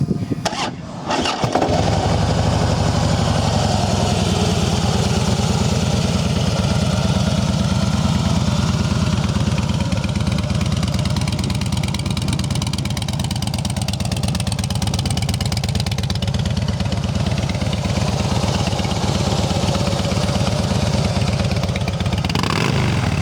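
Harley-Davidson Softail Fat Boy FLSTF motorcycle engine, a used bike, starting up and then idling with a loud, close, steady rumbling throb and occasional revs for over twenty seconds, no talk.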